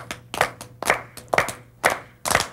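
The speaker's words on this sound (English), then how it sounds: "Keep clapping, but just soft." A group claps hands together during a rhythm exercise, sharp synchronized claps landing in a steady beat, about seven distinct hits, close and crisp with brief silences between.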